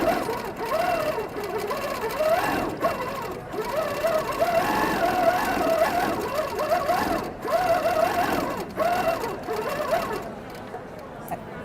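A Handi Quilter TruStitch longarm quilting machine stitches in a steady, continuous mechanical whir with rhythmic rising and falling pitch, fairly close, with faint talk mixed in and a quieter tail at the end.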